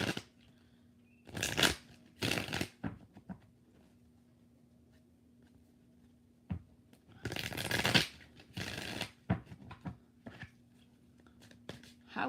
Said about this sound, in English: 4 shuffles for Lily.